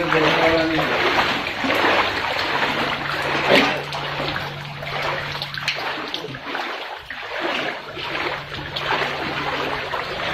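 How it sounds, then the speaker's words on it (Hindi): Floodwater after heavy rain in the streets of Hyderabad, a steady broadband rush and splashing of moving water that fills the scene, with people talking over it and a brief dip in the middle. "लोगों के घरों में पानी घुस गया है।"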